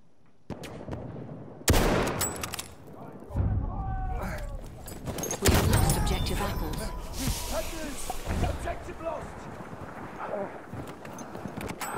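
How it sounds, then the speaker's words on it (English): Bursts of machine gun fire in a video game come as a series of loud, sharp staccato volleys with broadband cracks, spread across the clip over a dense battlefield din. "machine gun, hostile"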